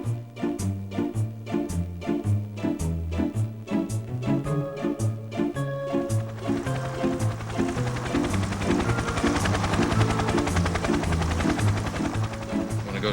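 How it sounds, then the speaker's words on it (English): Coaxial helicopter with counter-rotating rotors and no tail rotor, giving a rhythmic, pulsing rotor thump that grows denser and louder midway, over a steady mechanical whine. "Looks a lot like a helicopter, but unlike a helicopter, it has an extra blade."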